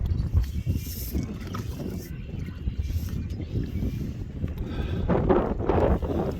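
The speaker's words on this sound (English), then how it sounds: "It is windy." Cold wind buffets the microphone at the bottom of Swan Falls Dam in Idaho during a winter fishing outing, a steady low rumbling roar with gusts that strengthen toward the end.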